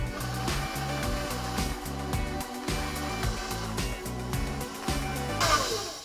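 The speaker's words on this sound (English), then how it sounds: "And then beat in the egg yolks 1 at a time." An electric mixer beats egg yolks into lemon snacking cake batter with a loud, steady whir. The motor pitch dips and shifts rhythmically as the beaters move through the bowl, with no talking.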